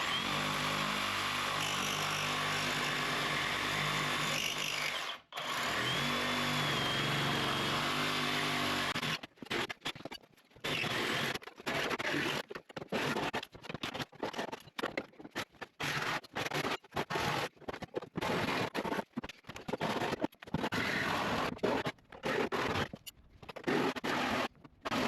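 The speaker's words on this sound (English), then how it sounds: "I took that massive Sawzall blade, which is almost like a foot long if you add in the tang portion of it, and did a test cut on the Firewall" A very long Sawzall reciprocating saw blade cutting into a steel car firewall on a Box Chevy being body dropped: a sustained harsh, loud buzzing grind that gives way to choppy, stuttering bursts of cutting with brief gaps.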